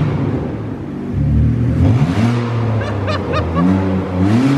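A straight-piped BMW Z4 revs hard and close up, its exhaust rising and falling through several loud, raspy blips with crackles between them, and nobody speaks over it.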